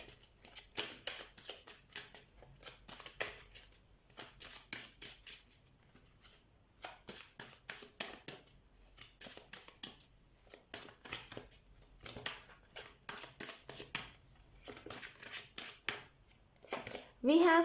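Tarot cards being shuffled and drawn during a Scorpio weekly reading: repeated soft, papery riffling and flicking bursts in quick irregular runs, fairly close, with a voice talking at points.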